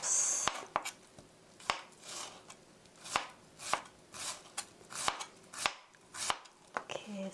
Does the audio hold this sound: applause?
no